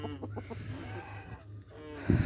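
Chickens cluck softly nearby with village farmyard ambience, and a rooster's call rises briefly at the end.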